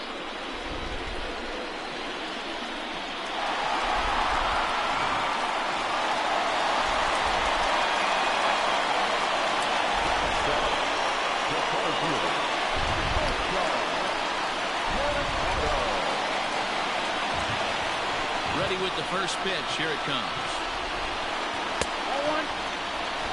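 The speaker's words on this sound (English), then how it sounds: "the rain starting to intensify here. It's coming down a little heavier now." Rain falls on an outdoor baseball stadium during a World Series game between the Los Angeles Dodgers and Cleveland Indians, a steady broadband hiss that grows heavier after a few seconds, running under a commentator's talk.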